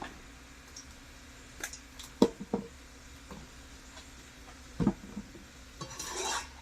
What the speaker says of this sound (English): now I'm going to mix this and cook the shrimp